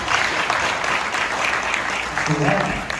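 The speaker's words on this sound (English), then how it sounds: "give yourself a round of applause for raising money for that" Crowd at a kayak fishing event applauds itself for raising money, dense steady clapping mixed with cheering and a voice speaking over it near the end.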